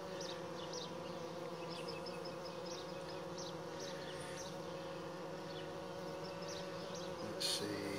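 Honey bees buzz steadily around a newly set up backyard hive, a dense continuous hum with many overlapping wingbeats and individual bees passing close, holding an even level throughout.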